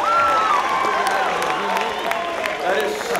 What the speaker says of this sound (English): Get one more round of applause.